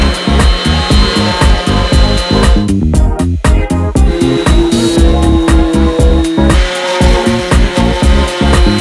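A power sander works over edge-banded wood pieces for a built-in banquette bench, making a loud, close, pulsing buzz with a regular rhythm that briefly drops away before resuming.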